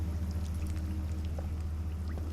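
Low, steady water ambience in the dark caves of the video game Scanner Sombre, a constant murky pour-like wash with faint drips, no voices.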